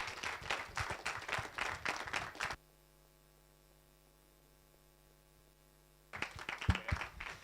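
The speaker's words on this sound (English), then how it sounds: "So one big round of applause for Mark Donfried." Audience applause at a freedom of expression forum closing in Berlin, two bursts of dense clapping from a crowd separated by a few seconds of near silence with mains hum.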